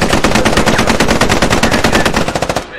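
A loud, steady machine-gun burst in the Squad Ops video game, rapid evenly spaced shots fired close for nearly three seconds, then slowing to a few last rounds before stopping, with no talking.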